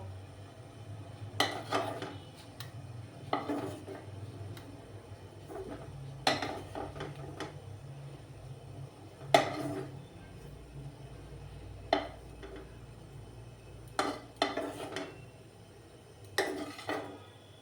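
Pieces of brinjal are placed one by one into a pot for steamed brinjal, producing a series of separate soft clunks and utensil knocks spaced a second or two apart over quiet background hum.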